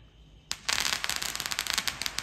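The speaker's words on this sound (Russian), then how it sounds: "вот сосед продолжает делать салют" Backyard Fourth of July fireworks set off by a neighbour erupt suddenly, then crackle in a rapid stream of sharp pops that carries on steadily to the end.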